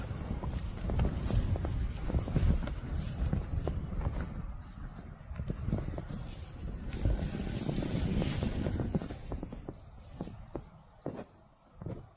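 Strong wind roars and buffets the microphone continuously at a campsite, with gusty rumbling and scattered knocks and clatters underneath.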